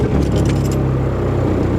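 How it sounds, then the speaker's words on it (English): A VW 1.9 TDI truck engine, key turned, catches quickly and settles into a loud, close, rumbling diesel idle that holds steady after a brief cranking burst. "Listen to how quickly this truck starts now."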